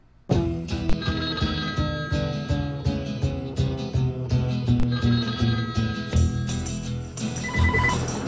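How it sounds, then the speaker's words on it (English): Telephone ringtones sound one after another in quick bursts, loud and near, several bells overlapping in a busy rhythmic jangle. "I hear the phones ringing"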